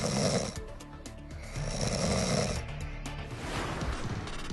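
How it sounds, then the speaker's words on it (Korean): Loud, ragged snoring with repeated rough breaths rising and falling in level, alone with no talk, the condition of snoring that disturbs sleep. "숙면을 방해하는 불청객, 코골이."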